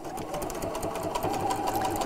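A sewing machine runs steadily, stitching straight across the end of a piece at an even, continuous hum with no pauses, close and fairly loud with no talking.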